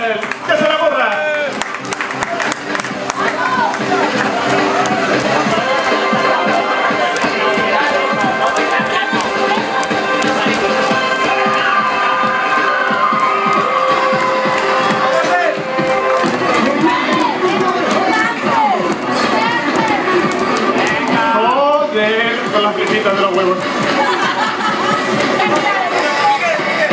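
Crowd at a DDR dance final cheers, claps and shouts loudly and continuously, a dense roar of applause with excited voices and children's shouts throughout, under a commentator's talk.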